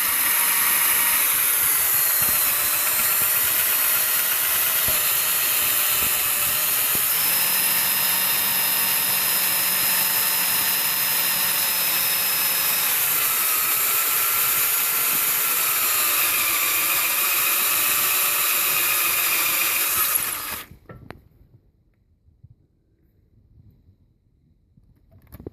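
A power drill bores out a broken exhaust manifold bolt, a loud steady whine with shifting tones running unbroken for about twenty seconds before cutting off abruptly into near silence.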